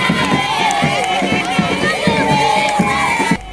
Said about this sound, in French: Monseigneur Sikuli Paluku Melkisedek a été accueilli avec joie par une foule de fidèles.